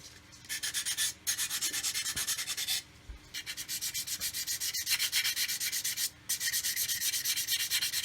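Steady scratchy sanding strokes rub paint off a joint on an Airfix 1/24 scale F6F-5 Hellcat plastic model aircraft, up close and continuous with a few short pauses between passes and no talking.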